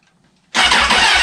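A 2004 Suzuki Katana motorcycle engine cranks over after about half a second of near silence, a loud, steady churning with a regular pulsing rhythm, heard up close with no talking.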